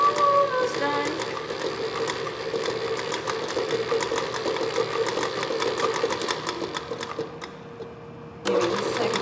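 An electric mixer creams chocolate crinkle cookie dough with a loud, continuous mechanical whir and rattling beater clatter, running steadily before a brief dip near the end as it resumes.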